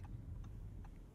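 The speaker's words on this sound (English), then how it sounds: "Turn signals." A 2022 Audi S8 L turn signal ticks lightly inside the cabin, about three soft, evenly spaced clicks over a low road hum.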